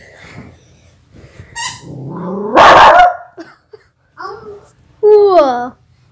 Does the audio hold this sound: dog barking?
yes